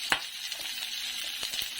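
Onion and chayote sauté in a hot pan with a soft, steady sizzle, broken by a few quick stirring clicks and scrapes, fairly quiet throughout.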